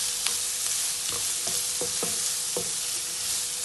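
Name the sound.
onions frying in a pan for egg masala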